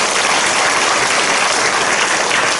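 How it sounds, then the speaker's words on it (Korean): Church congregation applause at a Korean Methodist worship service, a dense, even roar of many hands filling the whole stretch without letup. "우리 주님께 영광의 박수 드립니다."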